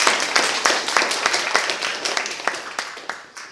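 Audience applause at a young scientists' science slam fills the room, a dense wash of many hands clapping steadily with scattered sharper claps, fairly loud and close throughout.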